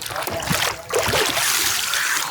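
Water splashes and sloshes as someone ducks into the Bakreshwar hot spring, a continuous close wash of turbulent water with a brief lull before the dip.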